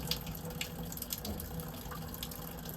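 Water keeps running from a Chicago faucet whose cartridge valve has failed and will not shut all the way. It is a steady, fairly faint hiss and splash from a sink with no voices over it.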